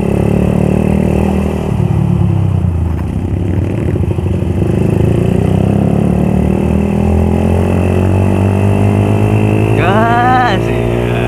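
A Suzuki Satria F150 motorcycle engine drones loud and close during a fast early-morning group ride through Jakarta, with a steady high rev, road rumble and a rising pitch sweep near the end, under some talking.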